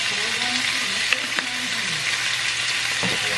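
Short ribs sear in a pan with a steady, moderate sizzle and a couple of faint clicks of handling, while a voice talks over it.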